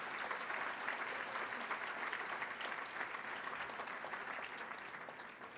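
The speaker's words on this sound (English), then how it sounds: "Applause for them, please." Steady applause from an audience at a Boston Latin School celebration, dense and continuous throughout, easing slightly toward the end.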